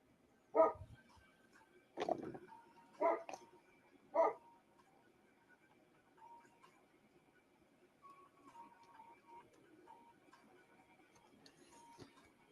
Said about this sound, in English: I wonder if I could get Gracie to stop barking